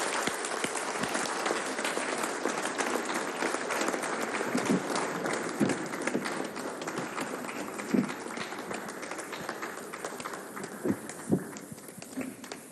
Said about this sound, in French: Encore plus fort des applaudissements, s'il vous plaît. A big round of applause.